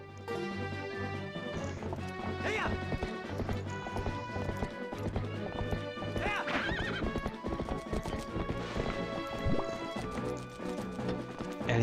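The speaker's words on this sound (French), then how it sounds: "Elle est dure à diriger, ce putain de cheval." Horse galloping in The Legend of Zelda: Twilight Princess, steady rapid hoofbeats with whinnies over game music and sound effects, continuous and loud throughout with occasional voices.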